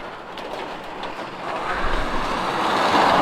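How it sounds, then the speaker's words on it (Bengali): Heavy rain during a motorbike ride, a dense, loud broadband wash of rain and wind noise that swells steadily over a few seconds, with no talk. "এইখান থেকে বৃষ্টিটা বাড়া শুরু হয়ে গেছে"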